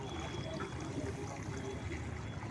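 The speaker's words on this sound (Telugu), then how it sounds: "పోసిన తర్వాత మళ్ళీ మిగతా సగం ట్యాంక్కి నీళ్లు పోయాలి" Water pouring steadily into a pesticide sprayer tank in a vegetable field: a continuous splashing, gurgling rush, close and moderately quiet, filling the tank without a break.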